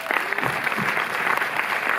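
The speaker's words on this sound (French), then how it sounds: "qu'on peut applaudir parce qu'il est là aussi." A cinema audience at Le Méliès in Montreuil breaks into applause, a thick, even wash of many hands clapping at once.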